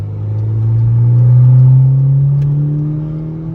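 A 2.09 turbo car's engine revs in a single smooth rise and fall, a loud, close, low rumbling drone with no talking over it.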